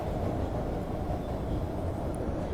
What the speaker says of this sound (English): I hear the train running